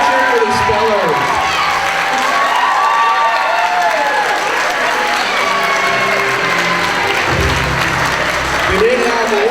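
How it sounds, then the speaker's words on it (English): School awards assembly audience clapping and cheering for the class spelling bee representatives as they stand: a loud, sustained crowd roar with clapping and shouts, some voices audible among it. "Let's cheer for the spellers."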